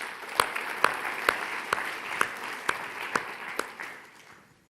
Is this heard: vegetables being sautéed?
no